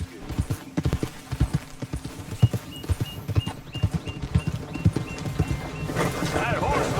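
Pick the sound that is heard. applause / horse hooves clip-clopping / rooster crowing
horse hooves clip-clopping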